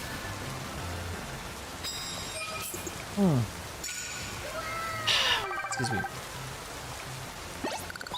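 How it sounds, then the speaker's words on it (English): Steady hissing rain falls in Pokemon Legends Z-A, a dense, fairly loud wash with game chimes and sweeping tones on top, and a voice speaks briefly. "The rain in this game sucks. It's so loud"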